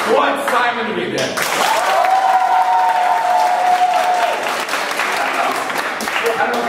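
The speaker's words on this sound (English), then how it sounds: "So, by a round of applause, who wants Alec to be dead?" An improv comedy audience claps and cheers to vote for a character, a lively burst of applause with crowd voices and a brief tonal sound partway through, continuing under light chatter.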